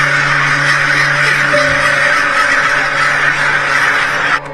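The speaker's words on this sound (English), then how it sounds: "But a substation fire make the crows do this?" Crows cawing frantically and continuously just before a blackout linked to a substation fire, a dense loud flock chorus with a steady low hum underneath, no talk.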